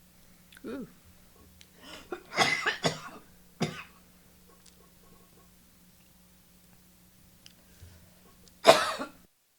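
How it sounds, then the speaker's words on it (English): A dry, unproductive cough from a person, a few short harsh bursts spread across a mostly quiet stretch with brief faint voice sounds, ending in one louder sharp cough near the close. "that dry, unproductive cough is still there"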